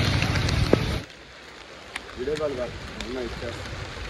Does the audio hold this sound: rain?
yes